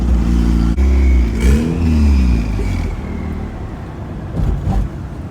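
Turbocharged car engine of at least 260 horsepower revving and accelerating from inside the cabin, a loud low drone with rising pitch sweeps, then easing off.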